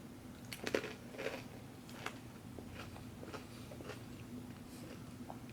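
Crunchy Ritz snack mix from a 2015 Halal Jalfrazi with Lamb MRE is eaten close up. A few crisp crunches come near the start, then quieter chewing, all faint with no talk.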